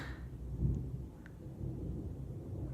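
Heavy thunderstorm over the University of South Carolina campus, with a deep rolling rumble of thunder swelling early and lingering over steady rain, loud and continuous with no voices.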